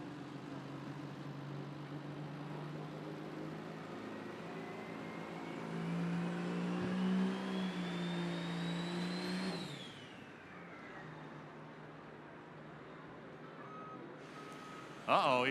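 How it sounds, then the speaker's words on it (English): A pro stock pulling tractor engine revs loudly at an Elkhart County fair pull in Goshen, Indiana, rising in pitch over several seconds before cutting off, while an announcer talks over the crowd. "That was merely just warming that tractor up, warming the extra butter up."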